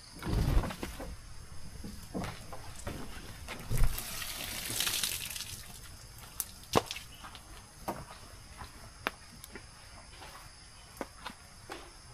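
Water runs and splashes at a camp, in bursts of gushing and pouring with scattered clunks and footsteps, then settles into a quieter trickle with sharp intermittent taps.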